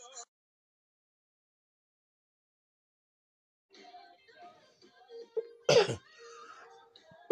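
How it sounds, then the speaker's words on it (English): A single loud, harsh cough bursts out close by after a few seconds of silence and some soft background noise. "Excuse me for that cough."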